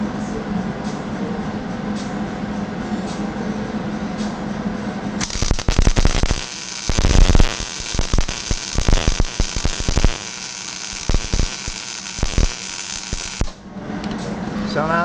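Welding the inside of a hole in metal, a loud continuous crackling and sizzling arc running for several seconds in the middle, set against a steady hum before and after, with someone talking.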